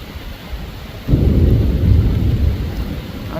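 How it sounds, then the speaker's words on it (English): A loud thunderstorm with heavy rain over open pasture where a cattle herd is being moved, the downpour suddenly swelling into a dense, continuous roar with low rumbling thunder after a quieter start. "there is a storm coming"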